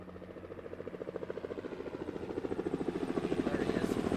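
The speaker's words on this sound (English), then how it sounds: "Chopper's going to come right over the Aviator." Helicopter approaching overhead at Gloucestershire Airport, steady rapid rotor thudding that grows louder as it nears, with faint background ambience.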